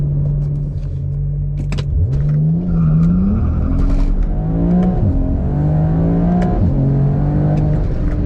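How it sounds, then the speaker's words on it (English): A BMW E92 335i with the N54 engine accelerates hard off the line with wheel spin, its loud engine note rising and dropping through gear changes in a continuous near roar. "fair bit of wheel spin off the line"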